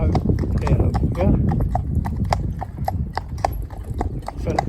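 A cob cross horse walks in harness, hooves clip-clopping in a steady, even walking rhythm on a hard surface, close by, with people talking over the sound.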